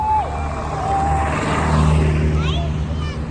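Vintage Porsche 356 race cars roll past in a town parade, a steady engine rumble with a faint passing swell. A voice talks over it throughout.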